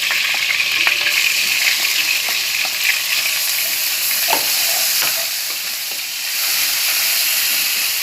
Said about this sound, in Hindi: अब इसके अंदर हम डालेंगे लहसुन अदरक का पेस्ट डालेंगे।